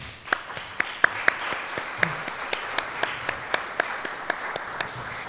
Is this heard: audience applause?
yes